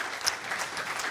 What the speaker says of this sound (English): Let's just give another round of applause for Floyd.